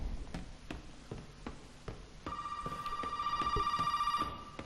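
A telephone rings in the horror video game Resident Evil 7. A sustained electronic ring starts partway through over a quiet backdrop of soft, regular taps, with no speech.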